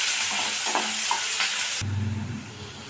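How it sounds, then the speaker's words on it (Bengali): Chopped onions, two of them, sizzling in a pan for chicken masala, with a bright steady frying hiss and a few stirring scrapes, close by; the sizzle drops and softens abruptly near the end. "এটাকে একটু লাল লাল করে ভেজে নেব।"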